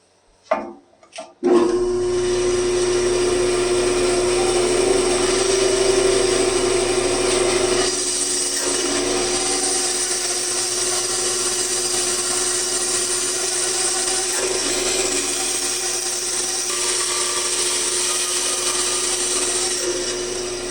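A power saw with a fine blade starts up and cuts steadily through a wooden guitar neck with a loud, sustained whining buzz that shifts slightly in pitch.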